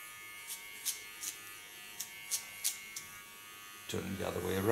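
A small electric hair clipper buzzes at low level under a faint steady hum, with several short sharper bursts as it cuts hair, before a voice and louder handling noise take over near the end.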